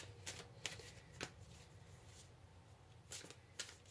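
Tarot cards shuffled and drawn during a pick-a-card reading, heard as a few quiet, sharp riffling bursts with soft papery rustle in between, close and without talk.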